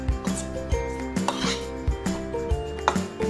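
Psyllium husk batter being mixed in a bowl, with a spoon or whisk knocking against the sides in quick, irregular clinks and taps, close and fairly loud.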